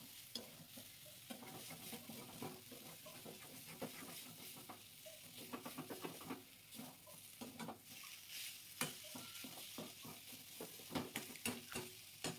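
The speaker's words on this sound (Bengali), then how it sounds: "আলু, মশলা ভালোভাবে কিন্তু কষতে হবে" A spiced potato filling stirred and fried in a pan for Bengali chicken egg devil, with steady close scraping strokes of a spoon against the pan over continuous sizzling, no voices.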